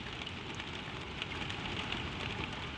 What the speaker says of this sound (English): the rain is falling soft